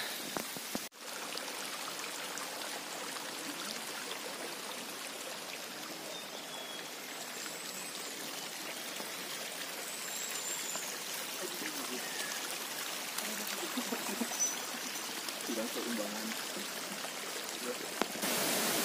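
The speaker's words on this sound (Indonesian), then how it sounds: "Apalagi ada sungai-sungai kecil ya." Small streams of water flow and trickle along the Mount Gede hiking trail via Cibodas, a steady broadband wash that stays even throughout, with a voice speaking faintly over it.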